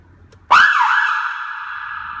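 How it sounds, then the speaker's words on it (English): A fire engine's loud wailing siren starts abruptly after a brief quiet moment, then holds a steady, piercing tone close by. "This is our sirens"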